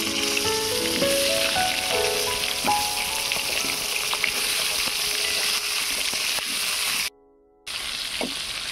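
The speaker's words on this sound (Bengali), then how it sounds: "আবারও বাকি পটলগুলো ভেজে নেব।" Pieces of pointed gourd fry in hot oil in a pan, giving a steady close sizzle with occasional spatula scrapes, briefly cut off near the end.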